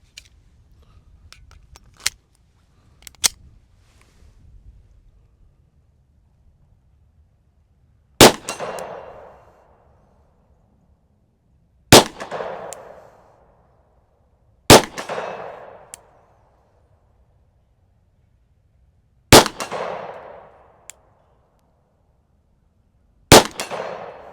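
SIG P365 Fuse pistol shots striking steel targets, five sharp loud reports spaced a few seconds apart, each followed by a ringing metallic clang that decays, with faint earlier pops and quiet background between.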